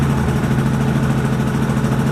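Honda EU2000i inverter generator running steadily just after a recoil-start pull, a close, loud, even engine drone with a strong low hum and no break throughout.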